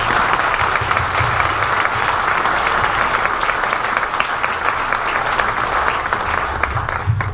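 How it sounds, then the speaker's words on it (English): An audience at a chamber of commerce luncheon presentation breaks into sustained applause, a dense, steady wash of many hands clapping with no break. "A round of applause,"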